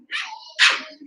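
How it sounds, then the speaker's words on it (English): Cavalier puppies bark during a vet visit, two short, sharp, high yips close by within about a second, with no talking. "the puppies are so loud"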